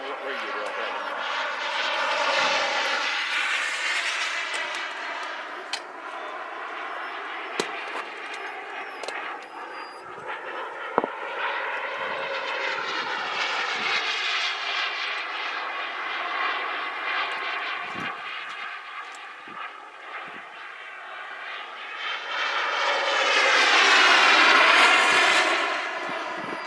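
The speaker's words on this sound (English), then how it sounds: "That's a Mountain High Hobbies motor. It's a 5055." A Senior Telemaster model airplane powered by a Mountain High Hobbies 5055 electric motor whines steadily as it flies, its pitch and volume swelling and fading as it passes, with people talking over it.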